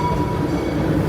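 Six Flags St. Louis amusement park train ride, a steady low rumble of wheels on rails rolling continuously and close, with no talking.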